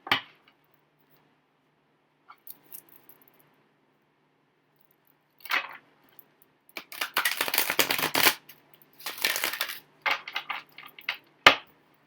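Playing cards are shuffled with quick riffling bursts and soft taps, in short clusters separated by quiet pauses.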